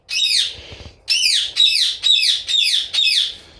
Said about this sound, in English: Sorry, these birds just don't know when to shut up.